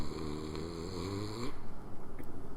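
A person imitates snoring: a few drawn-out, throaty snore sounds with a rattling rhythm, close and fairly quiet, with no speech.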